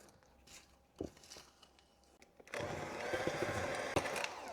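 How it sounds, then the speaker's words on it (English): An electric mixer beats strawberry shortcake batter with the dry ingredients added. After a couple of quiet seconds with faint knocks, the motor comes in with a fairly quiet, steady whir that runs to the end. "And now I'll add the rest of my dry ingredients. I'll mix this together."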